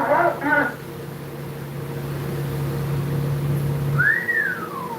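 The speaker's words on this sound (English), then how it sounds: "This man literally whistled, woo" A man whistles a single rising-then-falling note near the end, after a brief burst of talk at the start, over a steady low hum.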